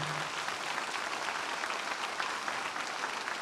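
Church congregation applauding at a Saturday water baptism service, a steady dense wash of many hands clapping at moderate volume throughout, with no voices over it.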